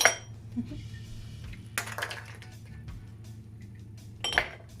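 Ice cubes dropped into a glass of homemade drink give a few close, bright clinks and rattles over a steady low hum, with a louder clatter near the end.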